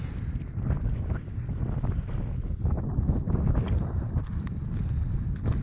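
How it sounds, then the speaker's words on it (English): Strong mountain wind near Monarch Pass on the Continental Divide Trail buffeting the microphone, a heavy low rumbling roar with gusty fluctuations that never lets up. "Really windy up here."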